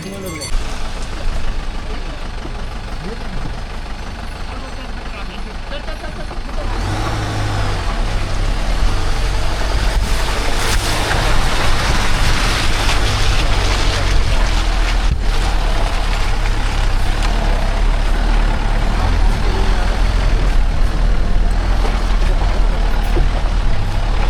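Vehicles labor up a muddy mountain road near Yamunotri after a landslide, a heavy engine roar swelling loud and close after a quieter start and holding steady, with voices mixed in.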